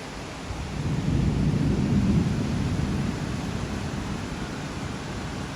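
Sudden rain with thunder: a broad, steady low rumble and hiss swells for a couple of seconds, then settles into a constant wash of rain with no voices.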